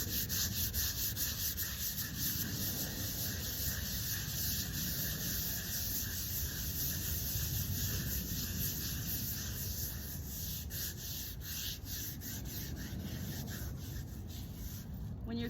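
Steady abrasive scrubbing on a stone headstone during gravestone cleaning, a continuous close rubbing and brushing sound that holds at an even level throughout with no talking.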